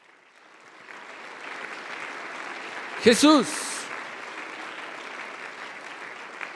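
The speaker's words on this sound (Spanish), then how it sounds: "Dale un aplauso al Rey" A congregation applauds during a Sunday church service, a sustained, rising roar of clapping that swells and holds, while a voice cries out once loudly in the middle.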